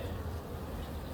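Honeybees buzz around an open hive in a soft, continuous low drone with no pauses.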